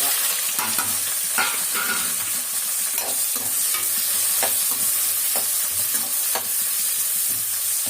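Chopped vegetables and peas sauté in hot oil with fennel seeds for a vegetable kurma, a steady loud sizzle broken by repeated scraping stirs of a spatula against the pan.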